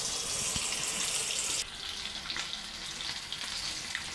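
Fish frying in a small pan of oil gives a steady, close sizzling hiss that runs without a break, easing slightly in level partway through, with no voices.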